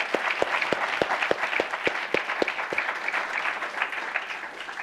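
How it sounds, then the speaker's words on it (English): A conference audience claps for a speaker, the scattered, sharp claps of a modest crowd in a room, with a few distinct louder hand strikes standing out near the front. "I hope you'll all join me in a big round of applause for Lena."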